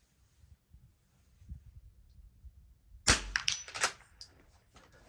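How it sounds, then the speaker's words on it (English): A .22 rifle fired at steel targets during a precision rifle match, a sharp crack followed by a ringing metallic impact, after quiet handling noise, then fading ring. "we're going to shoot the right target first, and then swing to the left target and engage that one next"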